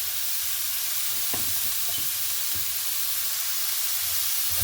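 Dry red chillies, garlic, onion and curry leaves frying in hot oil, a steady loud sizzle with a few stirring scrapes and taps, no talk.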